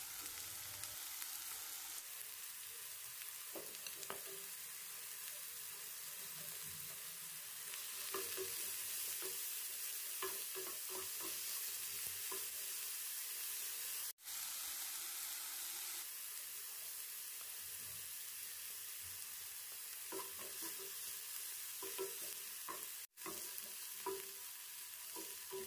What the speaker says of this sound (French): je vais faire venir l'oignon dans cette poêle dans laquelle j'ai ajouté un peu d'huile végétale sur feu moyen